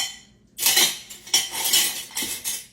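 A spoon is taken from among kitchen cutlery, with several bright metallic clinks and rattles in quick bursts, close and fairly loud, after a brief quiet start.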